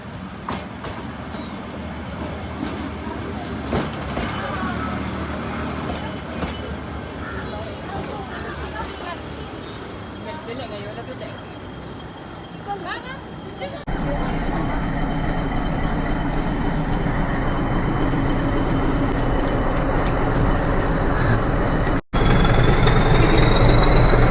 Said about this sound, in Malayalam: ഇതാ ട്രെയിൻ വരുന്നു